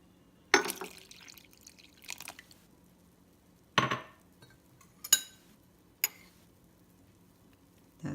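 Water splashes and drips into pinto beans in a slow cooker, a few quiet separate pours and taps spaced out over several seconds against a near-silent kitchen.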